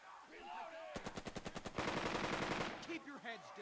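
Rapid machine-gun fire in the WWII strategy video game Burden of Command comes as a fast burst of sharp shots, then a longer rattle of heavy fire fading out, with game voices around it.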